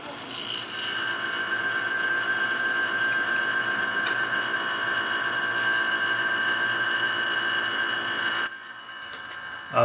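An AC vacuum pump hooked to a Volvo S60 T5's air conditioning drones at a steady pitch with a whining tone for several seconds, then cuts off abruptly near the end.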